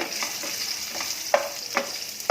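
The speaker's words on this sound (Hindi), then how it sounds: "अब इसमें एक कटा हुआ प्याज डालेंगे, इसको भी भूनेंगे" Quiet frying sizzle of chopped onion in a pan fills the background while a utensil stirs and scrapes with a few sharp clicks.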